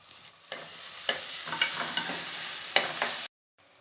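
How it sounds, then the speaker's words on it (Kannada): Onions fry in a pan for cluster beans palya, a soft continuous sizzle broken by several scraping stirs of a spatula, then sudden silence. "ಈರುಳ್ಳಿ ಎಲ್ಲ ನೀಟಾಗಿ ಫ್ರೈ ಆಗಬೇಕು"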